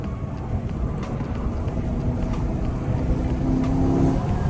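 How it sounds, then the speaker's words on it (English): A BMW E92 M3 Competition Pack engine rumbles steadily on a wet, slippery road, a deep continuous drone from inside the car that rises slightly in pitch near the end, with no talk. "That downshift though"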